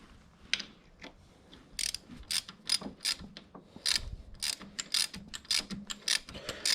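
A ratchet wrench tightening bolts on block-off plates of a Triumph Daytona 675R motorcycle, producing close, rapid bursts of ratcheting clicks with short pauses between strokes.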